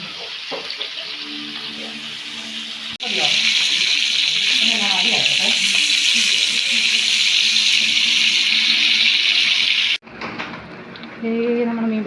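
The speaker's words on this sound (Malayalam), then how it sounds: "നമ്മൾ വെളിച്ചെണ്ണ ഒഴിച്ച് പൊരിക്കുകയാണ്" River fish coated in a ground chilli paste frying in coconut oil, a steady loud sizzle and hiss that jumps louder partway through, with a voice talking over it.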